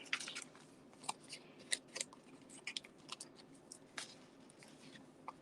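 Scissors snip steadily through material in a quiet room, a run of quick, crisp, close clicks with short pauses between cuts, no talking.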